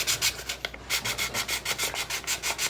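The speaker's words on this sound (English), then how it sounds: "I'm going to give it a light sand." A dried Crystalac Brite Tone keychain gets a light sanding by hand: rapid, regular back-and-forth scratchy rubs, about five or six strokes per second, close and moderately quiet with no talking.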